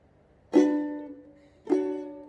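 Two slow, separate ukulele strums, each ringing out and fading before the next, played alone and fairly quiet.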